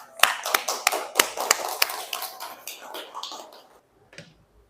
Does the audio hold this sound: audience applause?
yes